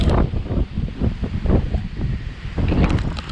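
Strong gusting wind during Hurricane Dorian roars steadily against the microphone for the whole stretch, with rumbling low buffets and shifting surges and no talking.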